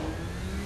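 A mid-sized car engine revs loudly and continuously in the video game Saints Row 4, giving a brief, close, steady roar.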